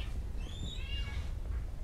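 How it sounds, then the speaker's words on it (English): A house cat meows in the background during a gaming stream, a few drawn-out rising and falling cries, faint and somewhat distant, heard alone without talk. "Oh, is that a pussycat in the background?"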